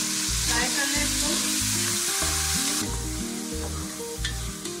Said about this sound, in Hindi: इसको फ्राई कर लें स्लो फ्लेम पर।